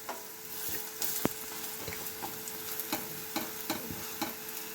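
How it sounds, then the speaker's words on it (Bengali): Raw vegetable, leaf and gram-flour rice-flour fritters (bora) frying in hot oil, a continuous close sizzle with occasional spatula scrapes and pops as they are pressed and turned. "ব্যাস এরকমভাবে আমি এপিট করে লাল লাল করে ভালো করে ভেজে নিচ্ছি।"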